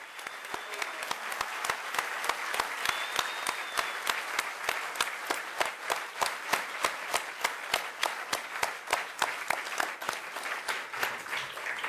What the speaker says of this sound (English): please, a round of applause for our comm